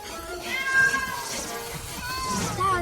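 A cartoon kitten gives several thin, high, wavering meows across a busy animated scene, with soft background sound underneath.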